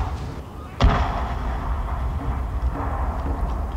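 Armstrong guns firing in a Shogun 2 land battle: one loud, close artillery boom followed by a rumbling battlefield din with faint distant thuds, a voice talking over it.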